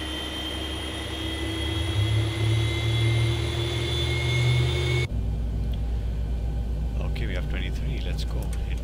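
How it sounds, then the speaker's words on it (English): A Boeing 737 jet engine spooling up in the X-Plane 11 flight simulator, a steady whining hum with tonal layers that abruptly cuts to a lower, rumbling engine tone partway through, while a voice talks over it. "You can hear in the background the engine is spooling up"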